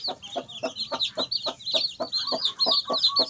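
Chickens, likely fighting-cock stock, cluck in a steady run of short, repeated calls, close and fairly loud, with higher chirping from chicks layered on top throughout.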